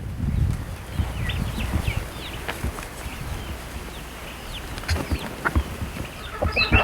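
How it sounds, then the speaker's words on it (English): Quail and two turkeys in a farm pen making scattered chirps, clucks and short calls, with intermittent rustling and knocking nearby and a burst of busier calls toward the end. "here's the quail and the 2 turkeys that we have left"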